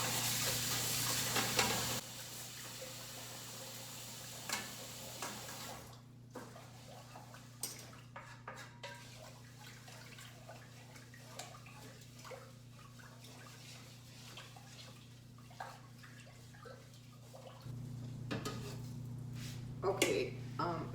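Rice being stirred and rinsed in water in a home kitchen while making maple sugar sushi, with soft swishing and clinking against the bowl, occasional light rattles, and a steady low hum running throughout.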